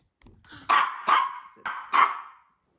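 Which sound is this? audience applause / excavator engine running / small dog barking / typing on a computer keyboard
small dog barking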